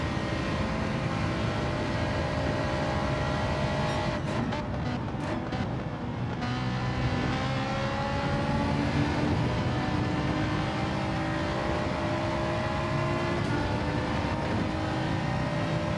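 A Ferrari race car in Gran Turismo 7 holds a loud, continuous engine whine, with the pitch sweeping up and down through the gears at Monza.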